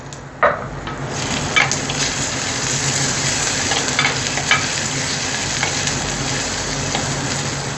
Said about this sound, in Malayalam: ഒരു വെളുത്തുള്ളി, 2 പച്ചമുളക്, ഒരു ചെറിയ കഷ്ണം ഇഞ്ചി. ഇത് നന്നായിട്ടൊന്ന് വാട്ടിയെടുക്കുക.